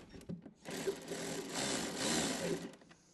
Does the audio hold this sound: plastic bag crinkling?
no